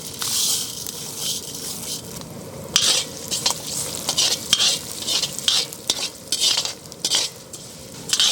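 Fenugreek seeds and urad dal sizzling in hot ghee for Trichy wedding-style drumstick and brinjal sambar, with a steady close crackle broken by repeated scraping strokes of a spoon stirring the pan.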